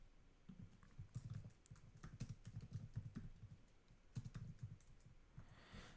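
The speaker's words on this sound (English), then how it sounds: "I'm typing it" Quiet, steady typing on a computer keyboard, a dense patter of key clicks with brief pauses, close by and alone.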